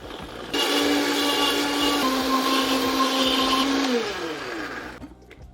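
A blender whirs through vegan green pasta sauce with capers, starting abruptly with a loud steady motor whine that holds, then winds down as the pitch drops before cutting off.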